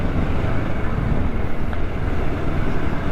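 A stock Kawasaki Ninja 650 accelerating with a stock exhaust, with a dense low engine rumble and heavy wind rush. The sound is steady and loud from start to finish, and no one speaks.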